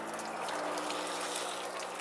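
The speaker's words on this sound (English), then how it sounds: "Coolant pouring out the back of the motorhome." Coolant pouring out of the back of a motorhome from a blown water pump: a steady, faint splashing trickle of liquid with no talk over it.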